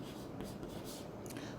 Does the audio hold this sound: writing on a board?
yes